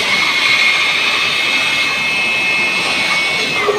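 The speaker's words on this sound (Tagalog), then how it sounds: "Binubugaan po yung blower sa air filter." An air blower blasting compressed air through the air filter of a Nissan Navara pick-up truck, a loud, continuous hissing whoosh with a steady high whine, held without pause.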